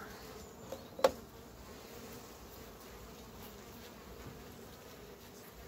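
Honeybees in an opened hive during cold late-season work give a faint, steady buzzing hum, with a couple of soft knocks near the start.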